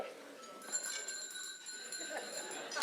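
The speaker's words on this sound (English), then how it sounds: "if you persist, you may hear this bell." A faint bell rings once and its clear metallic tone lingers quietly in a hushed room.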